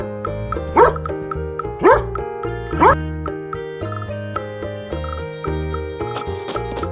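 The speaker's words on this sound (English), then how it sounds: "D for dog." Three evenly spaced dog barks ring out over a bright, bouncy music track, each about a second apart.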